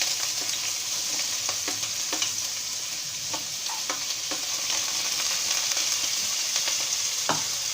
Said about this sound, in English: when the oil gets heated properly, then add the paste of ginger and garlic and some chopped onions